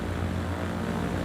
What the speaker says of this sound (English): Is the plane too loud?